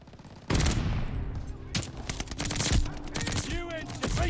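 Bursts of STG44 rifle fire ring out in Call of Duty Vanguard, sharp rapid shots in several quick volleys, loud and close, separated by brief pauses with other game effects.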